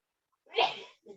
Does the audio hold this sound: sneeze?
yes